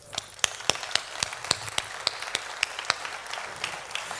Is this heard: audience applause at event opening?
yes